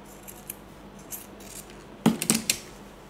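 Scissors snip through fabric while a simple two-tone hairband is trimmed, a few faint cuts at first and then a close cluster of three or four crisp, louder snips near the end, with no talk.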